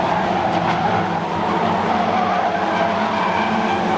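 1300 stock cars stream out of a turn at a World Final race, a loud, continuous mix of revving engines and tire squeal from a pack of cars sweeping past nearby.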